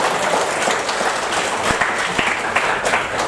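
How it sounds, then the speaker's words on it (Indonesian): A crowd claps steadily, a thick wash of applause with a few louder individual claps standing out. "Tepuk tangan untuk beliau."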